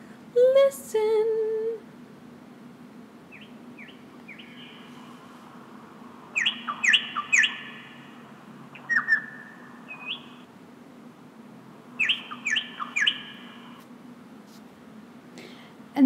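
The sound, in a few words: nightingale singing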